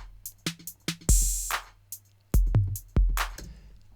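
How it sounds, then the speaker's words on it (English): 808 Core Kit drum machine sequenced in Ableton Live: a sparse pattern of deep booming kicks, snappy snare or clap hits and short ticking hats, played cleanly with no talking. "This is an Ableton Live. It's called the 808 Core Kit."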